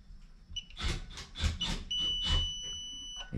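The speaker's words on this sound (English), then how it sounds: "You hear the beep, we have it." A steady high multimeter continuity beep sounds close by while testing a switch on a Daikin/McQuay fan coil unit, with several bursts of broadband rustling and clicking layered over it.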